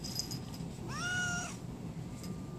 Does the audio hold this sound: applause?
no